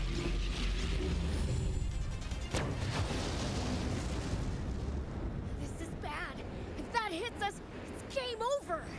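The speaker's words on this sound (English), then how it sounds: "Cannon, fire!" A cannon in the Sand Land video game fires with a sharp crack, then a heavy rumbling explosion roars and slowly decays, ending in shorter pops and warbling effects.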